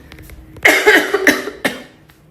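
A single harsh fit of coughing, several rough bursts close to the listener, then a quieter pause.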